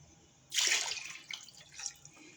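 Water is poured into a pot for French onion soup, a short splashing gush that starts abruptly, then trails off into softer trickles and drips; quiet and close.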